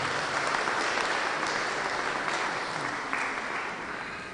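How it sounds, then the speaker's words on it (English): Sustained audience applause fills a Sunday love feast gathering at an ISKCON temple in Phoenix, a steady dense clapping from a crowd that holds loud throughout and fades slightly toward the end. "You can clap."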